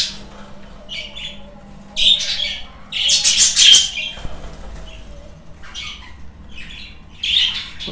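Budgerigar chicks squawk in a breeding aviary, harsh bursts clustering in loud flurries among scattered chirps over a low steady background hum.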